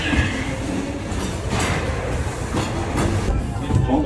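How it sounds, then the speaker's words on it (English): Steady rumble and clatter of the Disneyland Railroad train at Disneyland Paris, a continuous rolling noise with faint wheel clicks and a muffled background crowd. "Getting ready to board the Disneyland Railroad."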